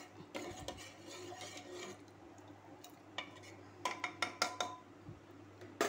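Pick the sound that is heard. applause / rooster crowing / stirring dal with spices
stirring dal with spices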